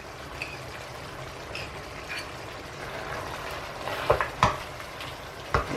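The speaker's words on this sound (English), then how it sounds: "Give it a nice stir." Mutton rogan josh with tomato puree is stirred in a hot pan, a steady low sizzle under a few scraping strokes of the spoon that grow sharper toward the end, close and alone.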